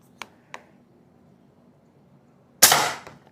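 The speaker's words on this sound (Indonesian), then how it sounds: "Kita masuk tembakan yang ketiga" Two small mechanical clicks, then a pause before one loud, crisp shot from a regulated PCP air rifle with a quick fading tail.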